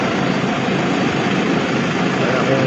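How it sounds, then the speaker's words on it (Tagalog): A Toyota Grandia's A/C blower fan runs strongly, a steady broadband whoosh of rushing air that holds constant and fairly loud throughout. "Lumakas ang ating fan."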